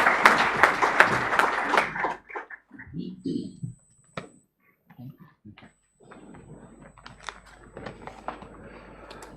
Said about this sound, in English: please give the heartiest round of applause